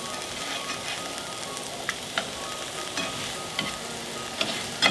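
Eggs frying in a pan, a continuous close sizzle and crackle with a few sharp spatula taps and pops scattered through, no voices.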